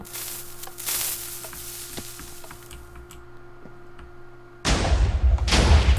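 Spread cannon fire in a video game tournament match: a few sparse cracks and thuds over a low steady hum, then a sudden loud, dense blast that carries on to the end.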